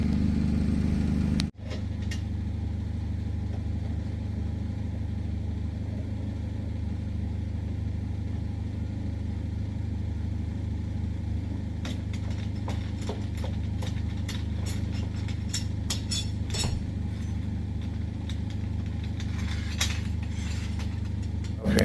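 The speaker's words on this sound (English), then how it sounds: "you can go ahead and crank this jack back down and lower the vehicle down" A car jack being cranked down to lower a Lexus RX350 after a flat tire change, with steady low mechanical rumble and scattered metallic clicks and ratchets through the later half.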